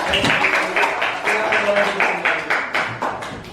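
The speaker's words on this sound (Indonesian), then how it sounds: "tepuk tangan untuk kelompok" A crowd claps steadily for a few seconds, dense and even applause filling the room, with some murmuring mixed in.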